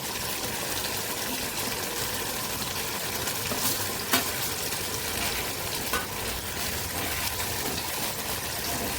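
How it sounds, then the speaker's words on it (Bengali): Mango pieces frying in hot mustard oil with panch phoron, four or five dried red chilies and a bay leaf: a steady, dense sizzle throughout, with a couple of faint clicks. "এখন আমি আমগুলো ছেড়ে দিচ্ছি।"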